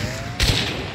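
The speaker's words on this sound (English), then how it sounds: "Oh, I'm getting shot at." A single sharp gunshot cracks loudly in the Hunt: Showdown video game, over a steady rumble of game ambience.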